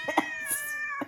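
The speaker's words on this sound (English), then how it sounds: "It's cats fighting?" Cats fighting let out a loud, sustained, wavering yowl with a few sharper cries at the start and end, close and harsh, with no talk.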